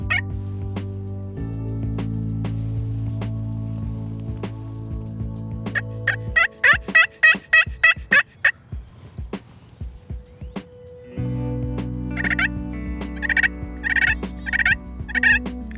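Wild turkey toms gobble from a roost, with repeated rapid rattling gobbles coming in bursts, some overlapping, set against a steady low hum that drops out and returns partway through.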